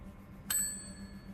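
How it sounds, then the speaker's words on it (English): A bell rings once in the video game Not For Broadcast, a single bright ding that rings out and fades slowly over a quiet low hum. "What'd the bell do?"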